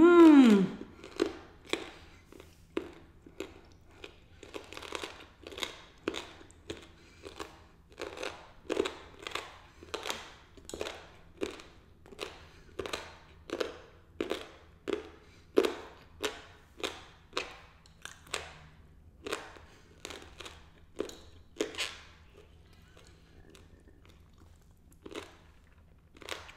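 Someone chewing a piece of meat during a Vietnamese comfort food mukbang, with steady rhythmic wet chewing sounds repeating about once per second for the length of the clip, close and fairly quiet.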